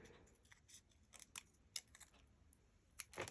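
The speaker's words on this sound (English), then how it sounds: "Then we'll get the little baby scissors to do the outline." Small scissors snip paper in quick, irregular clicks and crisp cuts, close and quiet, with pauses between strokes.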